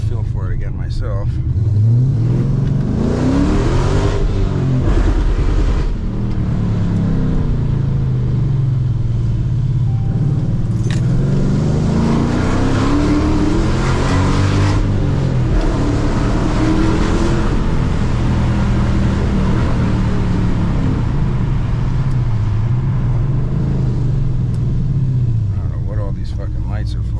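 Interior drive in a Dodge Challenger after a driveshaft and differential install: a loud, steady engine rumble rises and falls through repeated accelerations and shifts, with a voice heard over it.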